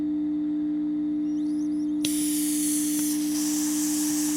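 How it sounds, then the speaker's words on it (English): An aerosol can sprays cleaner onto the band selector switch of a vintage Aiwa AM/FM transistor radio, a sudden loud hiss starting midway and running to the end, with a brief second burst, over a steady electronic hum. "Let's give this a little spray."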